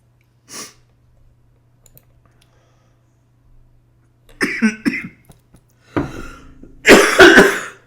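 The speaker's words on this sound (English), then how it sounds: "I thought the cough was over" A player at an online chess game coughs and clears his throat in a loose fit: one short burst early, then several harsh, close coughs and snorts bunched toward the end, loud against a quiet room with a low electrical hum.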